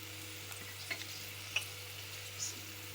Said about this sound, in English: Okay, now after frying chicken very well, we will add in all the spices.